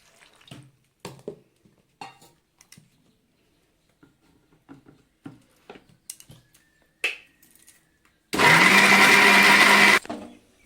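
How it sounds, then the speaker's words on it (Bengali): An electric mixer grinder blends boiled soybeans into a paste in one loud, steady whirring burst of about two seconds near the end, preceded by scattered light clicks and kitchen handling noises. "সিদ্ধ করা সয়াবিনটাকে আমি একটু মিক্সিতে পেস্ট করে নিচ্ছি।"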